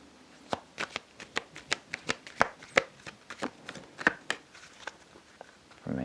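Tarot oracle cards are shuffled by hand, a close run of about twenty sharp, papery slaps and flicks in an irregular rhythm, heard alone and fairly quiet.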